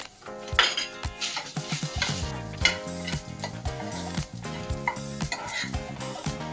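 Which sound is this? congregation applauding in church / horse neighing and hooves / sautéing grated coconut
sautéing grated coconut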